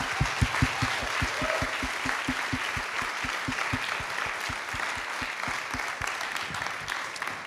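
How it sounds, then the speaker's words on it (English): Audience applause at a TEDx event in Baltimore, a steady wash of clapping from a crowd with a faint regular thump underneath, moderately quiet and continuous throughout. "Give yourself a round of applause."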